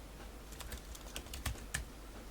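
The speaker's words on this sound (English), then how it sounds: "And the keyboard is typing" Keys clicking on a MacBook Air A1466 keyboard: a handful of quiet, irregularly spaced taps over a low steady hum, close to the mic.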